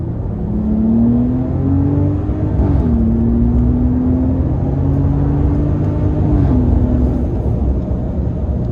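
A 2025 Ram 1500 RHO pickup truck pulls hard under full throttle with a loud, steady engine drone that climbs in pitch, then drops sharply at each gear shift, around three seconds and again near six and a half seconds.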